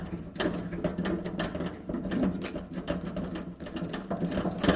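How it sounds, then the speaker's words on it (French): A kitchen faucet fitting is unscrewed, giving close, busy metallic ratcheting and scraping clicks that go on without a break, with no talking. "Il faut tout dévisser complètement là."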